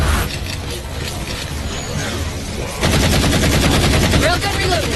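Heavy weapon fire in the Halo 4 game, with loud, rapid mechanical rattling and bursts against constant battle noise that grows denser partway through.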